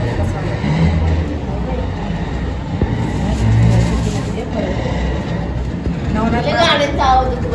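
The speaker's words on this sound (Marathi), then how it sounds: "लय गाड्यांचा आवाज येतो बाई रोड आहे" Road traffic from a nearby road, a continuous rumble of passing cars and other vehicles beneath people talking close by, with a horn-like tonal sound near the end.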